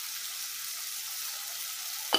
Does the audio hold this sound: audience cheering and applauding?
no